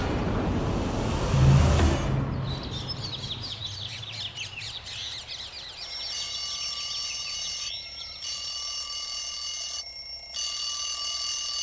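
A morning alarm clock rings with steady repeating electronic beeps from about six seconds on, loud and close, after a burst of bird-like chirps and a brief low thump.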